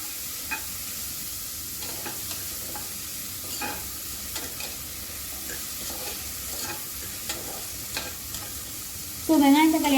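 Onion and tomato fry with salt in a pan for a quick homemade paruppu soru, a constant low sizzle with spoon scrapes and stirring knocks, then a louder burst of sizzle near the end.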